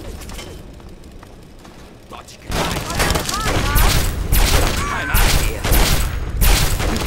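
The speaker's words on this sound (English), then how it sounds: "Alright, close quarters. Switch to the shotgun." Shotgun blasts and explosions in a Fallout 3 firefight: a quieter lead-in, then a dense barrage of loud booming shots and bursts with mechanical clatter, close and sustained.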